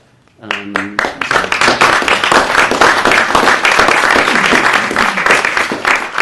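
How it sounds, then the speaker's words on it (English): Loud, sustained applause from an audience at an academic lecture event, starting after a brief voice and continuing as a dense, steady clatter of many hands clapping. "we owe Claire a great debt of gratitude and a round of applause."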